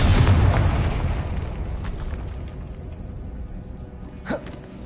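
Confringo fire spell explosion in Hogwarts Legacy: a loud, close blast with a rumbling low burst that slowly decays over several seconds, followed by a brief small pop near the end.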